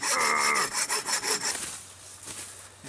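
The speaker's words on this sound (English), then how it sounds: "It takes a little bit of a sawing effort to get through it" Rhythmic back-and-forth strokes of a hand saw cutting through dense oak at a winter camp, fast and close, then slowing to a grinding rasp.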